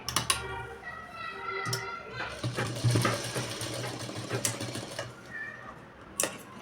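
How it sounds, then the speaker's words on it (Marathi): A sewing machine stitches a lined blouse in a close, fast, steady rattling run of needle strokes, broken by a few short pauses and clicks, with someone talking over it. "इथं थोडीशी टीप मारून घ्यायची सुरुवातीला"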